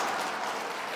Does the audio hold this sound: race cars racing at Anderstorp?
no